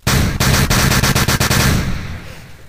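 Constant automatic gunfire in a Fallout video game, loud rapid bursts of shots close up, fading out toward the end with no talk over it.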